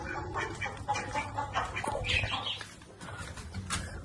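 A hen clucks repeatedly at close range in short, uneven bursts, with faint chirps from other fowl around it.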